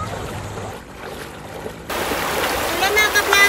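The Palacol River, rushing water heard as a steady broadband wash that grows louder and fuller partway through, with a voice talking over it.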